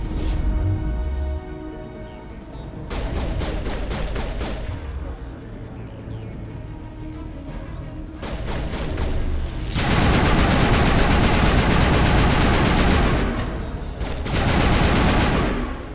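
Mass Effect gunfire comes in sustained bursts of rapid automatic shots, loud and close, with pauses between volleys and heavier sustained fire toward the end.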